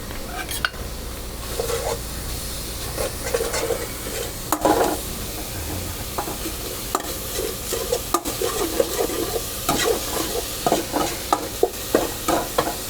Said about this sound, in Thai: คั่วเครื่องเขาหอมก่อนนิดนึงนะครับ